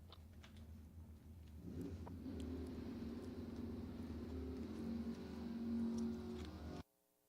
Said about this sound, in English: Camaro right. Fox Body Mustang left.